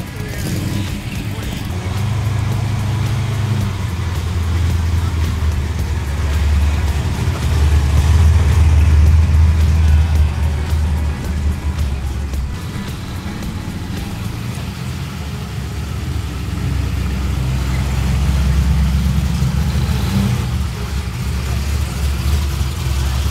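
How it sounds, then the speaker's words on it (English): A high-horsepower car engine runs near at a Hot Rod and Show & Shine car show, rumbling deep and steady with mild swells in volume while crowd chatter and voices mix in over the noise. "Sound of a big horsepower engine."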